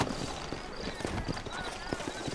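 Horse hooves clip-clopping in the Red Dead Redemption video game, a steady close hoofbeat rhythm under a man's speech and light ambient noise.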